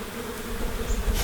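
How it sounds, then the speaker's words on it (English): A swarm of returning worker honey bees hums in a dense, continuous buzz, steady and fairly loud, with no talking. "These are all returning worker bees, so they'll be a little bit feisty."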